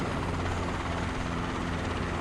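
A helicopter in a VR video game thrums continuously, dense rotor chop and engine roar heard close and loud from inside the cabin, with no speech.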